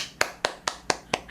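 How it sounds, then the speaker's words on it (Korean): Five single hand claps at a steady, even rhythm, sharp and close, each one alone with a short gap between, given as a welcome to a podcast. "박수로 맞아주세요."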